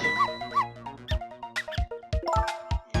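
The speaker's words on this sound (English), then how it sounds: "if you bark like that, you'll make the lady next door start howling." Video game dog in Ghost Trick barking, several sharp yips and barks in an uneven sequence over tonal game music.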